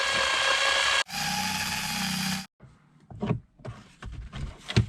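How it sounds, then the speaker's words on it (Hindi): A power screwdriver drives a screw into the AC cover of a Hyundai Creta during a restoration, two sustained whirring bursts followed by softer plastic clicks and handling knocks nearby. "तो अभी ये फाइनल तीसरा स्क्रू भी मैंने लगा दिया"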